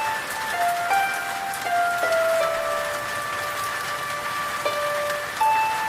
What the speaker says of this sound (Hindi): तेज बारिश के बीच कुन्नू घर लौट रहा था